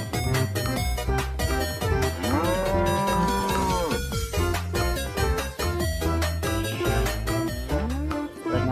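A toy robot cow gives out repeated electronic moos over a busy, jingly toy tune, loud and close.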